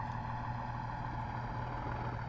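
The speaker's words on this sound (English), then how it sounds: "I know how to start the engine up." Diesel locomotive engine running in Train Simulator 2017, a steady low idling rumble with a constant mechanical drone and no talking.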